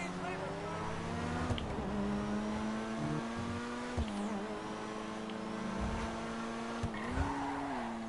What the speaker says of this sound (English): Let's go ahead and take the McLaren back up to the hills before we head out.